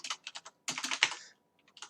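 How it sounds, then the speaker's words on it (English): Close, crisp clicks of typing on a computer keyboard come in short irregular bursts of keystrokes separated by brief pauses. "I cannot type today."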